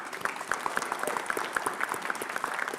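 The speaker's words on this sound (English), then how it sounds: "Can we give them a round of applause, please?" An audience at a summer graduation convocation ceremony gives steady, sustained applause with many hands clapping at once, moderately loud and continuous without any speech.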